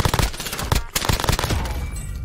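Gunfire in a shooter video game, loud dense bursts of rapid shots and cracks, fast rattling volleys overlapping closely with a few sharper single reports, continuous throughout.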